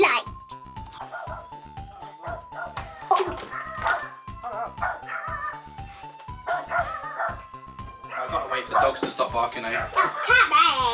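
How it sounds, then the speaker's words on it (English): Dogs bark in repeated short bursts at close range, mixed with giggling and voices, while a steady tone hums underneath. "I've got to wait for dogs to stop barking"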